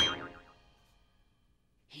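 A cartoon gong from the hypnotism kit in Rocko's Modern Life is struck once. It rings with a wavering, shimmering tone that fades over about half a second, leaving near silence before a short noise at the end.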